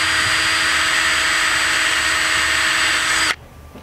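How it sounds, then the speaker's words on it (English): A power drill with a 1/8 inch bit, boring holes, whines steadily at high speed for over three seconds, then cuts off abruptly, leaving a quiet room. "I'm going to take an 1/8 inch drill bit, just drill holes through"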